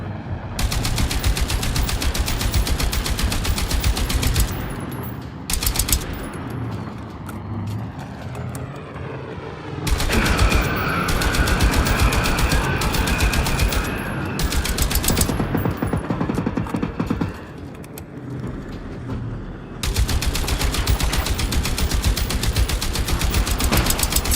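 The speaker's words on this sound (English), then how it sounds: "It's kind of just fun to make air shots with the rocket launcher." Rocket launcher fire in the shooter game Generation Zero: loud, dense bursts of explosive gunfire run in long stretches, broken by brief quiet gaps and an aircraft-like drone.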